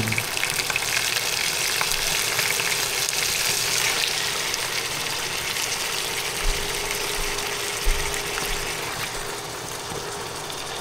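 Washed chicken liver is dropped into a pan of sautéed aromatics, giving a loud, steady, close sizzle of frying that runs the whole time, with a couple of soft low thumps.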